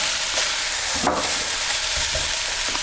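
Beef stir-fried with chilies for a Chinese takeaway satay beef dish, sizzling steadily in a hot pan with a sharp scrape or toss of the spatula partway through.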